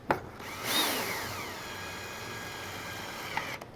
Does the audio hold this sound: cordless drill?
yes